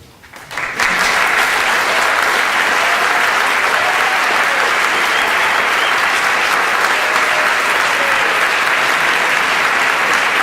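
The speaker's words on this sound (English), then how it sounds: "Stand up and give the applause." An audience at the end of a Noam Chomsky lecture on United States dominance of Latin America breaks into applause. The clapping starts abruptly, then stays dense, loud and sustained throughout.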